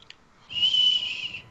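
A person attempts a whistle, producing a thin, airy sustained tone lasting about a second after a brief faint chirp, fairly close and alone without talk.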